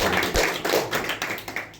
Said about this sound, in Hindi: एक अच्छा ताली बजाएं प्रभु के लिए।